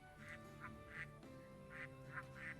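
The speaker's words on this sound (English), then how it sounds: "Lots of ducks quacking in the custom-made background." Ducks quack in the background of the GameCube JRPG Baten Kaitos, several soft nasal calls in irregular pairs over a steady low musical drone.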